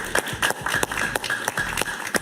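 Studio audience on a TV talk show applauding, with scattered, irregular claps in a continuous patter of moderate loudness, nearby and with no voices over them.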